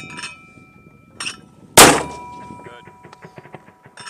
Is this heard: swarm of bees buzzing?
no